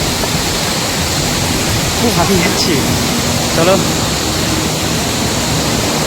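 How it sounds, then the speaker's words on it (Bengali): A mountain waterfall on the Amarnath Yatra trail toward Baltal pours in a constant loud rush, with a person speaking briefly over it. "সামনে একটা ঝর্ণা দেখতে পেলাম।"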